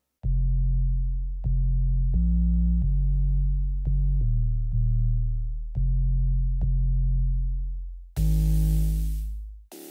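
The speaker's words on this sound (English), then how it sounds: "It's just sine wave and noise that's descending in pitch." Deep, rumbling drum and bass sub bass notes made from a sine wave and noise, descending in pitch, pulse at a steady pace, each swelling and fading, ending with a burst of hissing noise over a low tone.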